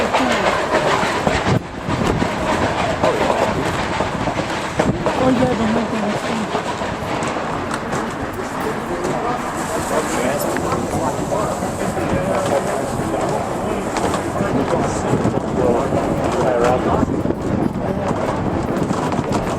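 A train backing up slowly to line up with a water tank beside a river, giving a steady rumble with rail clatter throughout, fairly loud and continuous, with no clear talk over it.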